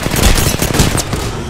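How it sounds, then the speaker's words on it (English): Rapid bursts of gunfire crack across a running circuit, dense and loud throughout, with faint voices in the background. "Guess our running circuit's getting shot at."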